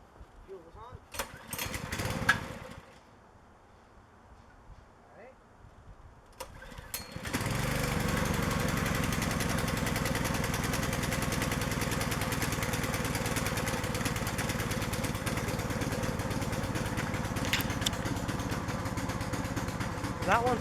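After a few seconds of talking and handling noise, a lawn mower engine starts up and keeps running loud and steady nearby for the rest of the stretch.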